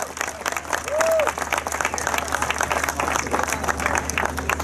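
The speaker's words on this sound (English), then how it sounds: "Let's give another round of applause." An audience at the Sevan Startup Summit 2018 in Armenia gives loud, sustained applause, dense clapping from a large crowd that continues unbroken through the whole stretch.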